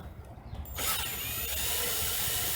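Power driver with a Phillips bit backing screws out of interior van panels, a steady loud mechanical whir that starts about three-quarters of a second in and runs continuously, close by.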